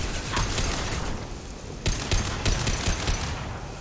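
Heavy weapons fire during combat in the video game Mass Effect 2, a dense, loud, continuous barrage with sharper cracks and impacts toward the end.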